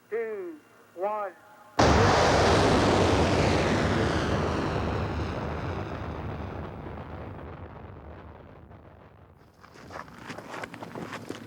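A research rocket fired at White Sands Missile Range in New Mexico: a sudden thunderous blast after a brief voice, then a long roaring rumble that slowly fades, with people talking faintly at the end.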